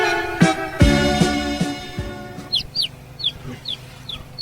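Chickens cluck in short bursts close by at first, then fainter, higher chirps and calls follow in a quick scattered series with no talking.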